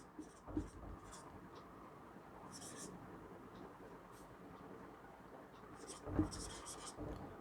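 A pen scratches out notes on paper in short, faint bursts of soft scraping strokes, separated by brief pauses against a quiet room hum.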